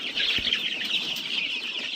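High-pitched peeping of young chicks fills the clip, continuous and busy, with faint farmyard noise underneath.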